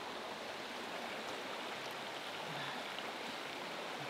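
A river stream in the Ukrainian Carpathians flows over stones with a steady, soft, close rushing hiss and no voices.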